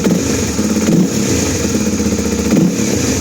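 A Rusi Flash 150x motorcycle engine, just fitted with a new spark plug, is revved with the throttle, giving a buzzy, close-up rasp with two quick surges over a steady idle.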